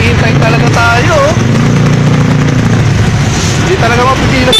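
A motorcycle engine runs steadily and loudly nearby, its idle rumble continuous beneath excited talking voices.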